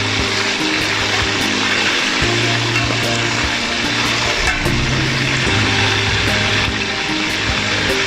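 Chicken fries in ghee with a continuous loud sizzle and hiss, while a low droning hum runs beneath it throughout.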